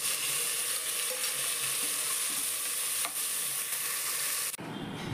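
Chopped tomato pieces go into a pan of frying onions and green chillies, giving a steady soft sizzle with light stirring, cut off abruptly near the end.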